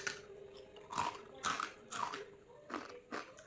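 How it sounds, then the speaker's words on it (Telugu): A crispy fried janthikalu snack being bitten and crunched, several sharp close crunches at a steady pace with short pauses between them and no talk. "పడుతుంది కదా సౌండ్. అంత కరకరలో క్రిస్పీగా వచ్చినాయి అనమాట."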